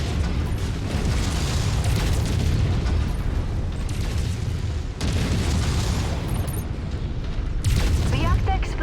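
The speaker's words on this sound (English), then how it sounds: "Reactor explosion detected." A mech's reactor blows up in the video game MechWarrior 5: a loud, dense explosion that rolls into a sustained, rumbling roar of blasts and debris across the whole stretch, with fresh bursts around five and eight seconds.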